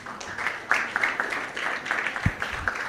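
Scattered clapping from a university event audience, a steady patter of many hands at moderate level, with a brief low thump partway through.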